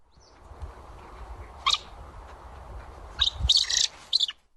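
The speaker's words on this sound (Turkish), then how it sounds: "Görüntülerdeki bir çakır kuşu." A northern goshawk found exhausted in Erzurum gives a few sharp, high calls, one brief cry and then a closer burst of harsh repeated notes, over a quiet background.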